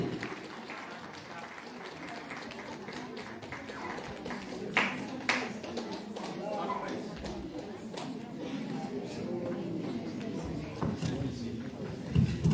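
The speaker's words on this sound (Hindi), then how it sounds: "जोरदार तालियां" An audience at a mass carol programme in Bomdila applauds the third prize winner, with steady clapping running throughout and a speaker talking over it.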